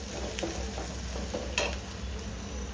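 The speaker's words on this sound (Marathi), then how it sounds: "चांगलं हिंग आणि कांदा चांगला भाजून द्यायचा" Asafoetida and onion frying in a pan, a constant close sizzle with occasional light clicks of the spatula.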